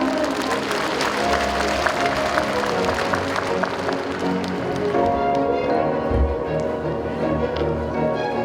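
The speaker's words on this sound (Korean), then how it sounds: "여러분 뜨거운 박수로 맞아주시기 바랍니다" Audience at a ceremony marking Kim Dae-jung's 100th birth anniversary claps to welcome a speaker, a broad steady applause that continues for several seconds while a low background hum runs beneath it.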